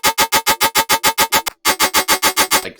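Synth transient repeated in a fast, even pulse at a static pitch with no filter modulation, loud and bright, briefly cutting out once before resuming.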